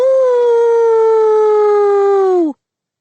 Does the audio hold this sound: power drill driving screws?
no